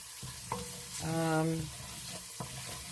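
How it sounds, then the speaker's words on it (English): Tomato paste stirred into onions and green pepper frying in a pot: a soft, low sizzle with occasional spoon scrapes and a brief tonal hum partway through. "I'm just stirring it in with the onions and the green pepper"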